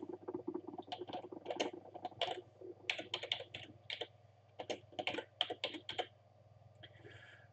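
Typing on a computer keyboard to name a video file: irregular bursts of quick, light key clicks close by, with short pauses and a low steady hum beneath.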